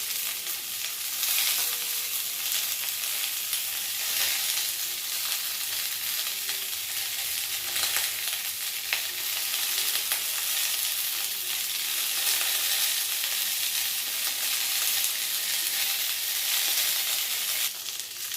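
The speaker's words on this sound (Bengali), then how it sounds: "একটু ভাজা হয়েছে, উল্টে পাল্টে দিচ্ছি, আর একটু ভাজা হবে" Pointed gourd sizzles steadily in a pan of oil, a dense continuous crackle close by with occasional soft stirring scrapes, no voices present.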